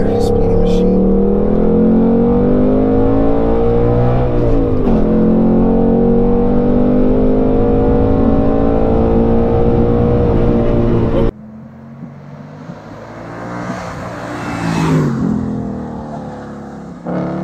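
A sporty car with a big trunk subwoofer accelerates and drives, its engine note rising and dipping in a loud sustained drone for about eleven seconds, then dropping to quieter road and wind noise with a brief swell.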